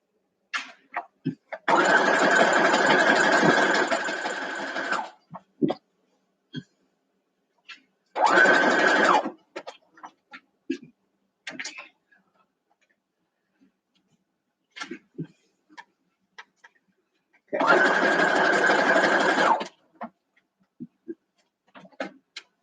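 A sewing machine runs a seam on a Farm Girl Vintage quilt block in three separate whirring bursts, the first and last longer, separated by quiet gaps with light clicks and handling noises.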